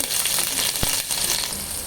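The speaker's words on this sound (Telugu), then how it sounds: "ఇప్పుడు ఆనియన్స్ ఫ్రై చేయాలి." Onions frying in hot oil and ghee with cumin (shahi jeera) for bagara rice give a steady, close sizzle throughout, with one brief sharper crackle partway through.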